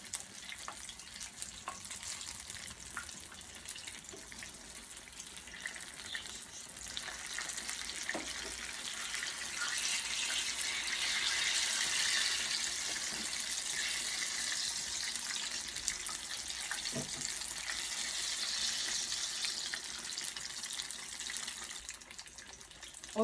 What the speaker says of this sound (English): When I'm frying my fritters